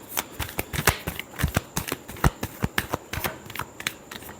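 Tarot cards riffled and shuffled by hand, a steady run of crisp, close flutters and slaps repeating for several seconds with no talking.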